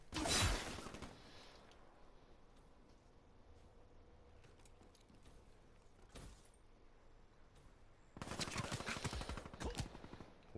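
Gunfire in a Call of Duty match: a sharp burst of shots at the start, a lone crack mid-way, and a dense rapid volley near the end, separated by quiet game ambience.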